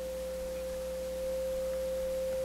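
A steady pure sine tone near 520 Hz, tuned to the pitch of C5, generated for an acoustics lecture on hearing and sound pressure level, holding constant and unbroken throughout with no speech.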